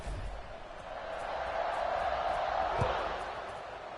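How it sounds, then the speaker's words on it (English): A stadium crowd in the College Football 26 video game swells into a sustained roar after a UConn score, rising from a low murmur to a loud, broad cheer that holds steady, with no commentary audible. "this crowd is buzzing after that last score"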